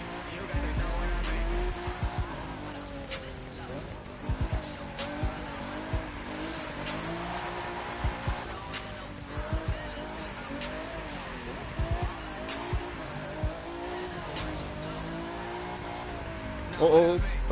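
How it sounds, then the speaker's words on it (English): Tires squeal and slide as a race car drifts with drift assist turned off in a driving video game, the engine droning steadily throughout with repeated skid bursts and speech nearby. "I like how much the car slides around with drift assist off."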